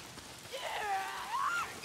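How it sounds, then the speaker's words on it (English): Rain falling in a mountain-set video game: a steady, soft hiss of downpour, with a thin whining tone rising and bending above it, continuous and without voices. "Why is it always raining?"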